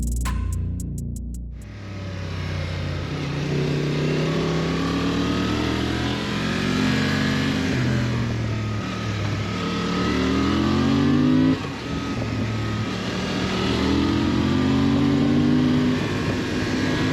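A Honda Transalp XL750 middleweight adventure motorcycle engine revs and pulls through the gears, rising and falling in pitch with repeated acceleration sweeps, loud and close over steady wind and road rumble, with no talk.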